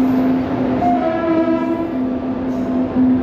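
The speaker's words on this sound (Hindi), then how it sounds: "से सियालदह ट्रेन आ चुका है और इसके बाद हमारा ट्रेन आएगा।" The Sealdah Express rolls into a station with a loud, continuous rumble, and a sustained horn-like tone holds across the whole stretch at close range.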